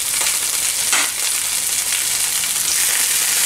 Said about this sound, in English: Those are going to sear for a few minutes, and then we're going to turn them over so each side gets some good color on it.